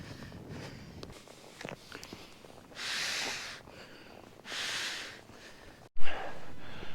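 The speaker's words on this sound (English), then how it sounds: "Excuse the heavy breathing" Two long, rough breathy exhales stand out among rustling and crunching movement, followed by a sharp thump near the end.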